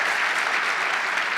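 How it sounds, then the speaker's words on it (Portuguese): An audience bursts into thick, continuous clapping, a dense wash of many hands at steady loudness for the whole brief moment, with no distinct voices over it. "Uma salva de palmas para esse brasileiro aqui."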